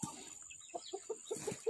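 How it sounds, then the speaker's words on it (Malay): A crossbreed village chicken clucks in a short series of close, rhythmic clucks with a little wing movement, with no talk over it. "Dia ni pun lebih kepada macam ayam kampung kacuk ni"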